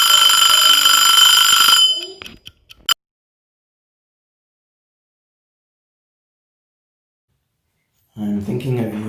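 A kitchen timer alarm rings loudly with a steady, piercing electronic tone for about two seconds while a freshly baked sourdough loaf cools. It cuts off abruptly, a long silence follows, and then a voice starts talking.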